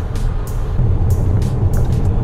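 A Tesla Model 3 on Autopilot speeds up on a Toronto road, giving a loud steady low rumble of road and tyre noise inside the cabin with faint passing whooshes and no talking.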